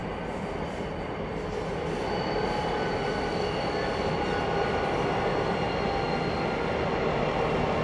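Three Pacific National diesel locomotives run light engine through Maitland in the Hunter Valley, a steady loud rumble of engines with rolling wheel noise and faint squeal, continuous and close throughout with no talk.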